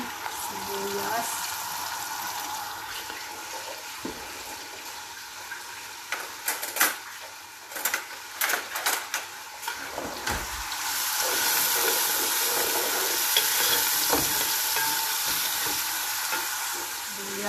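Onions sautéing in a pan give off a steady, close, bright sizzling hiss, with brief clatters of stirring partway through.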